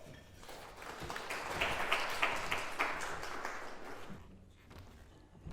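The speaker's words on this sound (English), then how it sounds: "Please welcome her to the podium with a round of applause" An audience at a formal event applauds to welcome a speaker to the podium; the clapping swells quickly, holds as a dense patter for a few seconds, then fades away.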